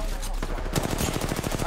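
Rapid automatic gunfire in the video game Apex Legends, a fast rhythmic stream of sharp shots after a single earlier crack, close and steady across the short stretch.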